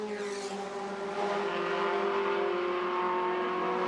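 Race cars in a 1995 Esso Protec 1600 series event at Trois-Rivières tear through a tight street corner under an arch, a loud sustained engine roar with a rising pitch as the cars accelerate out, with no talking.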